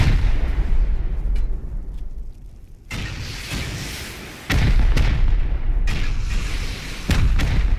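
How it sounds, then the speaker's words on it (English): Rocket explosions in the survival video game Rust during an online raid by a large group: repeated loud, close booming blasts with sharp onsets and rumbling tails, several in quick succession. "Rocket."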